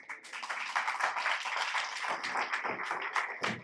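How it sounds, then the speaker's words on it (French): An audience at a political meeting in Creil applauds with steady, dense clapping that carries moderately loud and unbroken for several seconds. "on peut l'applaudir le temps qu'il a"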